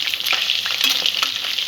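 Chicken pieces fry in a pan over a medium-low gas flame, turned side to side until lightly browned, giving a steady, loud, close sizzle with faint crackles and no voices.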